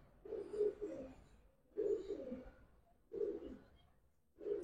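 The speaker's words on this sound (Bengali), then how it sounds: "ভাই আরেক জোড়া বাঘা সবুজ গলা কবুতর।" A pair of green-necked pigeons coo softly in four evenly spaced phrases, close by and alone.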